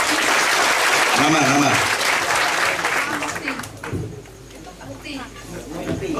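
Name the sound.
audience applause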